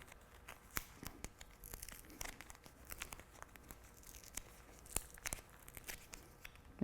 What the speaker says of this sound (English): I just tape on the lockpicks on the back of the card